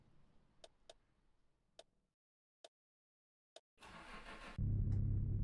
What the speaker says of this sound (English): I didn't think she was going to turn on then.